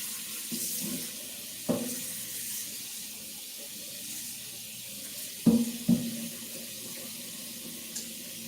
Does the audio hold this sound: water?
yes